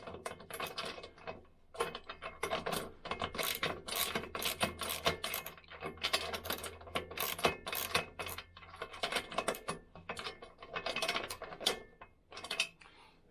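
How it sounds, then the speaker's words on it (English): Close, rapid ratchet wrench clicking as bolts are tightened on a Woodland Mills HM122 sawmill head assembly, irregular bursts of sharp metallic ticks with short pauses between runs. "So don't fully tighten it this time."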